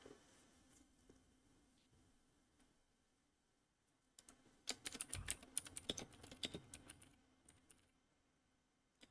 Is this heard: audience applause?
no